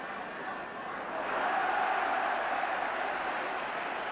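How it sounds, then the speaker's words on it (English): A large Norwegian football crowd roars after a goal at a 1982 World Cup qualifier against England, a broad distant wash of cheering that swells after the first second and holds steady. "the Norwegian crowd are absolutely cock-a-hoop now, as you'd expect"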